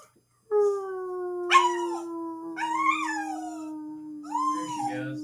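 An old dog with lung cancer howls in long, wavering tones alongside her owner, who howls and yips with her in a duet, both loud and close.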